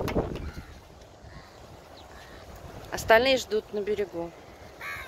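Crows caw in a short burst of harsh calls partway through, heard outdoors near a shore amid a man's speech.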